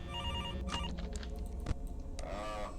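A telephone rings in a FNAF fan video game, a shrill electronic bell tone with repeating trills, fairly clear and alone amid faint game ambience.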